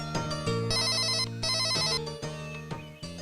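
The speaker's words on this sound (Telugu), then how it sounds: "అన్నయ్య ఫోన్ చేసినట్టున్నాడే" Mobile phone ringing with an incoming call: a loud, bright synthetic ringtone melody repeating in rhythmic bursts, close by with no talking over it.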